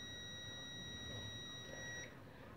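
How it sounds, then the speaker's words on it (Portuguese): A steady electronic continuity beep from a multimeter testing a good thermal protector, a thin high tone holding for about two seconds before cutting off, fairly quiet. "Vocês estão vendo que está dando o bip, indicando que está passando a resistência e ele está bom."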